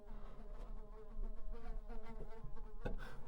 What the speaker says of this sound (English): I've got a fly follow me down here.